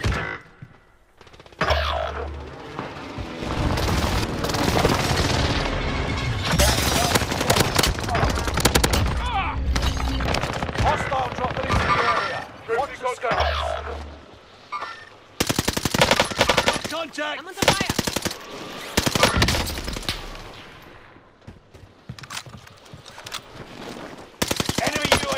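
Rapid machine gun bursts and scattered gunshots from a first-person shooter video game, loud and dense across most of the stretch, with short pauses between volleys and game radio voices calling out under the firing.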